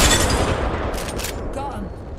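Dense gunfire in the video game Apex Legends, a rapid burst of close, loud automatic shots at the start that trails off into fainter scattered fire and game sounds.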